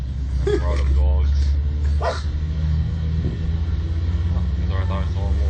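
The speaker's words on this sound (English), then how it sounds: "Look at all these dogs." Dogs bark a few times in a funny animal video playing back. The barks sit under louder talking and a steady low rumble.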